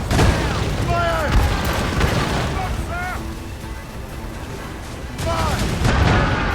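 Ship cannons boom in a naval battle in Assassin's Creed Rogue, with heavy shots landing at intervals amid crashing impacts, shouted voices and a rumbling battle din.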